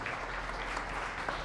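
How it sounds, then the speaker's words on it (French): Applause for award winners at a citizen innovation and leadership prize ceremony, a steady dense wash of clapping from a sizable audience, continuous and somewhat distant. "Je vous demande une dernière fois de les applaudir."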